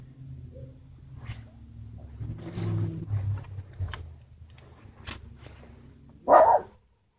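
A dog barks in a garage during axle shaft seal work on a Geo Metro, with low rumbling growls that build, then one sharp loud bark near the end.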